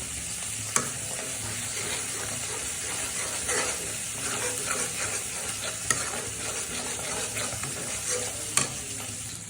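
Fish cooks in a pan with mustard paste, giving a constant close sizzle and frying hiss under stirring, with three brief sharp clicks of a utensil against the pan and no talking.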